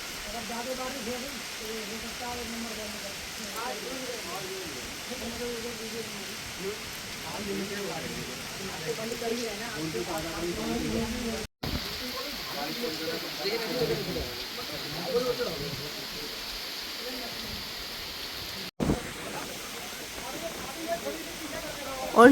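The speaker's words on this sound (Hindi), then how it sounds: "और बारिश देखिए कितनी तेज़ है, सबको यहाँ पे रेफ्यूज लेना पड़ रहा है।" Heavy rain pours down in a tiger reserve forest, a steady broad hiss that never lets up while someone talks over it throughout.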